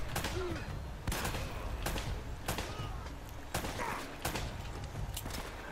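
Shotgun blasts in the video game Uncharted: Drake's Fortune, a series of heavy booming shots spaced about a second apart over dense background game noise.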